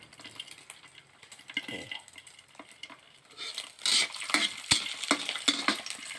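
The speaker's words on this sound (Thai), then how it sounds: "ตอนที่น้ำมันหมูกำลังเดือดนะ เป็นมันเปลวนะ มันหมูธรรมชาตินะ" Natural pork lard, rendered leaf fat, bubbling and frying in a pan as a crispy Thai-style omelette is being made, with soft sizzling, stirring and scraping, and a few sharp clinks of a utensil against the pan.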